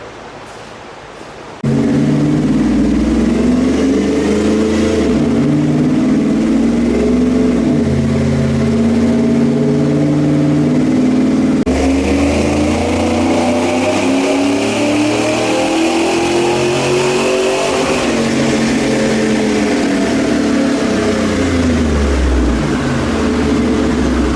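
A truck engine on a dyno starts suddenly and revs hard during a tuning run, its pitch climbing steadily under sustained load, loud and close, with no talking.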